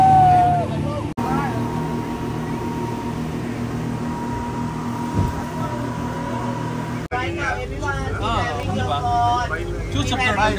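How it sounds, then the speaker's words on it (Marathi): Tour boat engine on a Phi Phi Island trip in Thailand, a steady low droning rumble running throughout with water noise, close and fairly loud, with people talking over it. "this is our boat"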